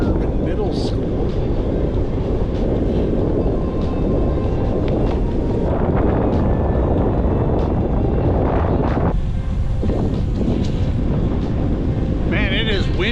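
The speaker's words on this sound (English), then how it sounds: "Man, it is windy, and that wind has got a bite to it." Strong wind buffets the microphone while bicycling around Sheboygan, Wisconsin, a steady loud roar and rumble throughout, with gusts shifting in intensity and no talk over it.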